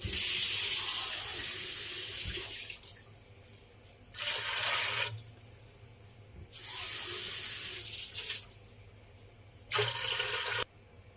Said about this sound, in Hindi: इसमें मैं इतना पानी डाल लेती हूँ कि ये दाल इसमें डीप हो जाए।